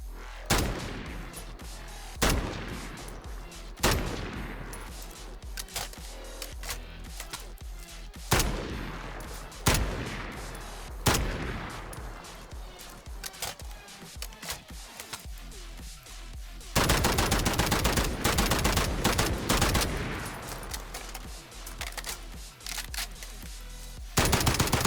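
An FAL rifle firing in Call of Duty Warzone, with rapid bursts of loud sharp shots separated by short pauses, then a denser continuous stretch of fire near the end.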